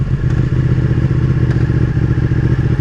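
A Ducati 959 Panigale motorcycle engine runs loud and close, a dense throbbing exhaust rumble with rapid pulsing and faint clatter, held steady throughout.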